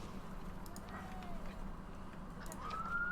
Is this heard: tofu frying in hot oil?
no